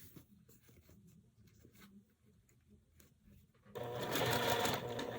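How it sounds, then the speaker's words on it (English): A sewing machine stitches a curved quilt block, running slowly and quietly at first with a faint ticking patter, then surging louder and denser as it speeds up for the final second and a half. "I'm going to put it to the machine and"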